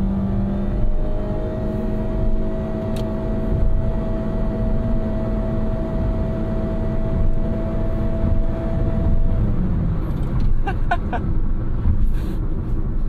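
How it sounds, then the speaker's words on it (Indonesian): A 2015 Honda HR-V CVT engine drones loudly and steadily at constant high revs with a sustained tonal hum, heard from inside the car while driving, with faint clicks near the end. "Saya nggak habis pikir dengan suara mesinnya."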